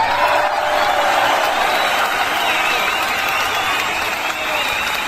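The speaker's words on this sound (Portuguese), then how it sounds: "uma salva de palmas para IA!" Audience applause at a live TV show with a domino tournament, a dense, steady wash of clapping and crowd noise that holds loud for several seconds before easing slightly.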